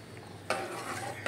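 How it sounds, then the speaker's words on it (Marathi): A spoon stirs a vegetable ukad mixture in a pot, with a soft scrape and two brief clanks over a faint simmer, quiet and close. "ढवळलं असं की त्याला उकळी येऊ द्यायची"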